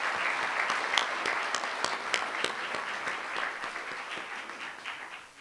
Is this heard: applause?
yes